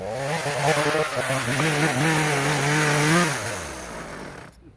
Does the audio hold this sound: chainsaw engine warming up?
yes